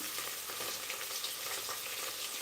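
Tomato and vegetables roasting in oil for khichdi give off a soft, even sizzle throughout, faint and unbroken, with no voices.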